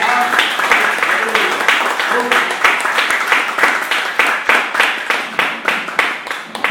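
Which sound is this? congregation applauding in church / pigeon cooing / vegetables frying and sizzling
congregation applauding in church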